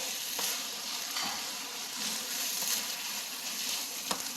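Glass noodles, with chives just added, stirred in a frying pan for beef japchae, giving a steady soft sizzle with light scraping taps and one sharper clack near the end.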